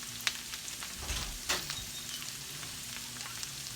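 Country potatoes fry in a pan with a soft, steady sizzle and crackle. There are faint clicks and a stirring scrape now and then. The sound is quiet and close, with no talking.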